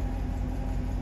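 A 2012 Chrysler 300 SRT8 V8 engine idling rough, a steady close-up rumble with no voices.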